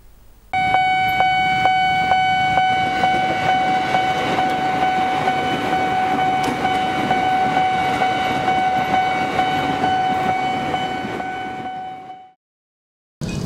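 A train passes a railway crossing at Bintaro in South Jakarta, its horn sounding as a long, loud steady tone over the rumble and clatter of the cars for about twelve seconds before cutting off abruptly.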